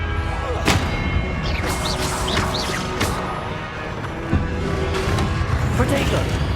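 Spell blasts from Confringo in the Hogwarts Legacy video game go off as a series of sharp booms and crackles, mixed with other battle effects and swooshing magic.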